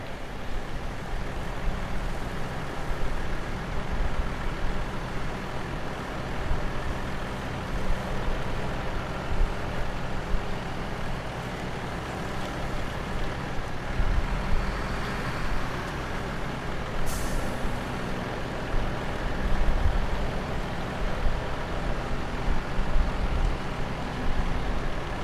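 Heavy truck engine in the Snowrunner video game grinding off-road in low gear across uneven terrain, a steady loud rumble throughout with a brief hiss near the end.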